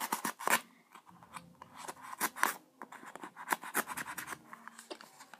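Scissors snipping through material indoors in a bedroom, a string of close, crisp cuts and rasping slides with short pauses between them, with no talking.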